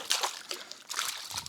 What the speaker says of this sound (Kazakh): Су шашып тастады ғой бізге